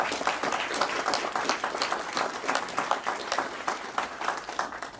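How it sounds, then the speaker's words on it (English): A crowd at a mayor's New Year's levee applauds for a congratulated honoree, a steady, dense round of clapping of moderate loudness that holds evenly for several seconds without talk. "Let's give him one more round of applause, please."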